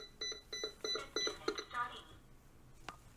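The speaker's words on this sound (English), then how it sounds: "It was beeping there." A VACNITE remote smart automatic pet feeder for dogs or cats gives a short series of close, evenly spaced electronic beeps, then falls quiet except for a faint trailing tone.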